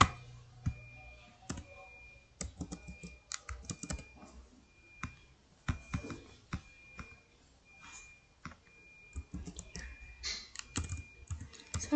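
Typing on a computer keyboard while entering spreadsheet formulas, uneven bursts of crisp clicking keystrokes up close with short pauses, including a few harder taps, and no talking.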